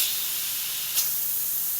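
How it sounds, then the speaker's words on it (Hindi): A pressure cooker full of chickpeas vents steam on a gas stove, a steady broad hiss that holds for under two seconds, with a brief sharper puff near the middle. "प्रेशर इसका हमने करना है ख़त्म।"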